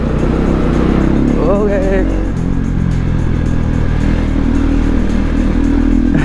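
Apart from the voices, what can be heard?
KTM 390 Duke motorcycle engine revving while riding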